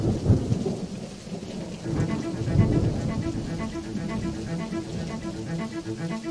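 Thunder rolls and rumbles low over steady heavy rain in a storm sound effect, continuous and loud throughout, with a voice speaking over it.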